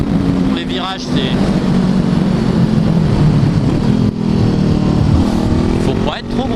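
A 2016 Honda CBR 500 R sport motorcycle runs at a steady, loud engine drone while being ridden, with wind rushing over the microphone and a rider talking over it.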